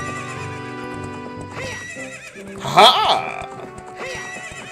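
In the Ocarina of Time video game, a horse gives a loud whinny over galloping hoofbeats and background music, and a rider shouts once just before it.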